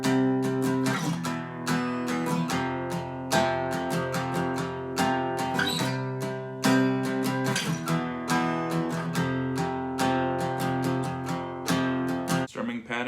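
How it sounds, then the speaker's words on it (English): Electric guitar strums a repeating sequence of three power chords from a song, steady rhythmic down-and-up strokes ringing out loud and alone, with a brief pause near the end. "this song has 3 chords and they're power chords"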